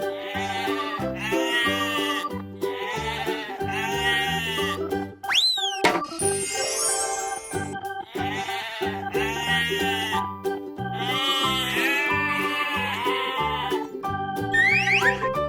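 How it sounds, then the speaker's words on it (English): Sheep bleating in repeated loud, wavering calls with short gaps between them, close and clear, broken by springy boing effects and a brief jingly toy-like noise. "Sheep."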